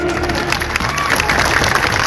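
Crowd applause at an outdoor Adivasi political rally speech: steady dense clapping and cheering from a large audience fills the whole stretch, with loud, continuous hubbub and some voices mixed in.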